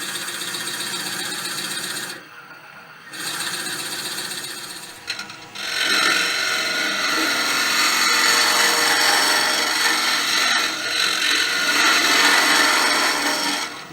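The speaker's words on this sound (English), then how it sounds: "then come in with your spindle gouge and just clean across the face there" A spindle gouge cuts across the face of a wood piece spinning on a lathe for a yule log box, producing a steady, close hissing scrape that pauses briefly before continuing loud and sustained.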